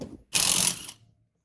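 One short burst from an impact wrench spinning off the flywheel of an XR200 motorcycle engine, a loud close rattling whir lasting about half a second after a faint lead-in.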